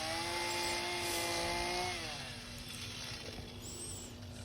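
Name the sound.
chainsaw carving outline of gnome shoes in wood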